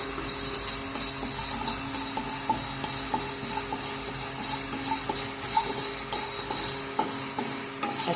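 Raw rice dry-roasting in a pan for homemade sambar powder, a continuous dry rustle and scraping stir of grains against metal, fairly close and even, with no talk.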